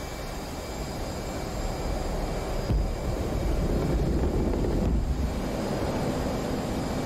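An aircraft takes off in the DCS flight simulator, a loud continuous jet engine roar with steady broadband rumble that barely changes over the whole stretch, with no talk.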